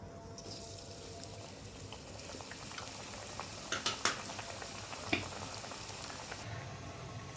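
Soft, steady bubbling sizzle of batter-coated vegetable chops frying in hot oil in a kadai, with a few brief clicks and taps of utensils.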